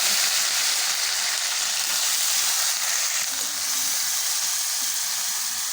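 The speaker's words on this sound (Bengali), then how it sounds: "সুন্দর করে পেঁয়াজ বাটাটা ভুনাই নেব।" Ground onion paste sizzles and fries in a hot pan over cumin seeds, a steady, loud, close hiss that runs unbroken with no voices.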